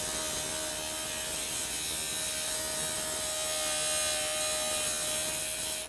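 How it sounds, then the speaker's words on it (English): A JOOLTOOL grinder works a turquoise slab into a cabochon, a continuous whirring hiss with a steady high motor whine, close and unbroken for several seconds without talk. "Let me just grind a little bit"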